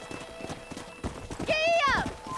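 A horse in the video game Red Dead Redemption trots with rapid clip-clopping hooves, close and moderately loud, ending in a short whinny-like cry, with a voice speaking over it.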